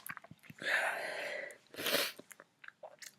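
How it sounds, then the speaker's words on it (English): A girl sneezes close up, with a drawn-out breathy build-up, a sharp burst, then a second explosive sneeze, surrounded by small sniffs and mouth clicks and no speech. "I need to sneeze so badly"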